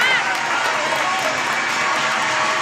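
Guests at a Turkmen wedding celebration in Istanbul clap together in a steady, moderately loud wash, mixed with crowd murmur and a voice ringing through a reverberant hall.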